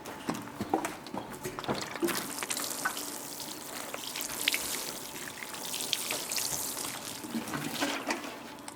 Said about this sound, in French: Donc là, je vais venir arroser.